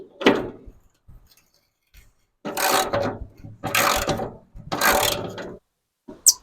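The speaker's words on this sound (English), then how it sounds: "So this is a 8mm ratchet." An 8mm ratchet turning out burnt burner screws on a Weber Genesis E330 barbecue: three sustained bursts of rapid clicking, close and fairly loud, separated by brief pauses and a few small taps.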